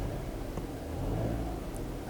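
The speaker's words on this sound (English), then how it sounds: "Rev the engine." A car engine revs up with a low, steady rumble, close by, during a scan-tool diagnostic check with no one talking.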